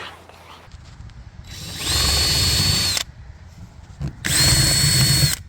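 An impact driver whirs in two loud bursts, each about a second long, close by, with quieter tapping and handling noises between them.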